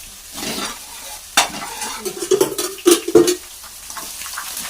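Curry leaves frying in hot oil in a pan, a soft sizzle under repeated scraping and clinking as a spoon stirs them, close and fairly loud, with several quick metallic knocks.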